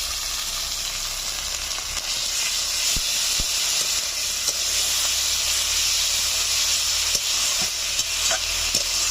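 Ginger garlic paste, chopped tomato and green chilli paste sizzle and hiss steadily in hot oil while being stirred for a Bengali fish head muri ghonto, a loud continuous frying sound with occasional spoon taps.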